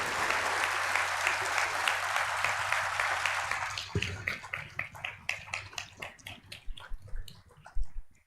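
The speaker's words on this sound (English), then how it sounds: "May I request the audience to clap for each one of us and all of us." An auditorium audience at a valedictory and prize distribution function claps in a full, steady round that thins after a few seconds into scattered, separate claps trailing off.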